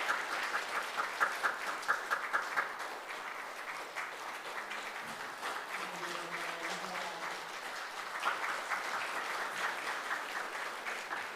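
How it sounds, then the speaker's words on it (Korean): A church congregation at a Sunday service applauds children at a Bible quiz award ceremony, sustained clapping that dips midway under faint background tones and then swells again. "큰 박수 해주시기 바랍니다"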